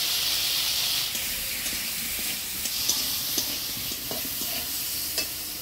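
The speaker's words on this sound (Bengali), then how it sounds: "আমটা হলুদ লবণ দিয়ে ফোড়নের তেলে নাড়াচাড়া করে নিলাম।" Mango pieces with turmeric and salt stir in hot tempering oil with mustard seeds and chilli for a raw mango chutney, a steady broad sizzle with scattered scrape and clink of the spoon, close and continuous, no talk.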